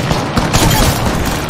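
Dense burst of gunfire in a multiplayer shooter video game, sharp cracks and booms overlapping continuously at close range for a second and a half with no talk.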